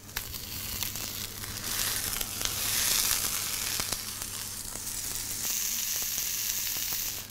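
Fish sizzles steadily as it fries in a non-stick stainless steel pan, a continuous close crackling hiss that swells slightly midway, with no talking.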